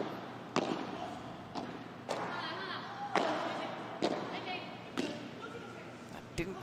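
Pickleball paddles striking a ball during a professional PPL finals match in New York City, including a dull off-center thud, with several sharp impacts spaced about a second apart under a commentator's talk and crowd ambience.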